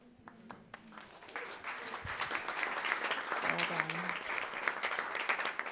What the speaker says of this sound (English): I think we should just do 5 minutes of applause for you.